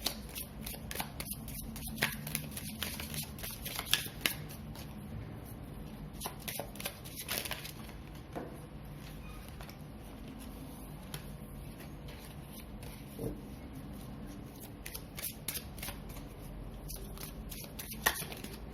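Tarot cards being shuffled by hand, with a steady run of soft papery riffles and slides and a few sharper flicks, as though a card springs loose, close and fairly quiet throughout.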